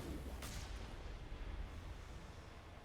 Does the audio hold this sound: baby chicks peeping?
no